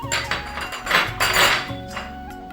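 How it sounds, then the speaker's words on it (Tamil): Rhythmic dull pounding of shallots and garlic in a kitchen, several uneven thumps with faint clinks, close by and moderately loud, no talking. "சின்ன வெங்காயமும் பூண்டும் தட்டிக்கணும்."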